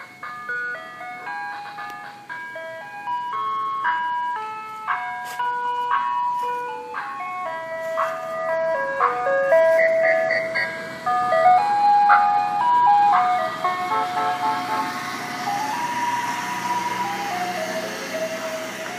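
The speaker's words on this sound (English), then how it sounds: "the way this ice cream truck plays the song changes the way people think about it" An ice cream truck plays its tinkling jingle melody loudly and steadily, note after note over a continuous hum of the idling vehicle, with no talking.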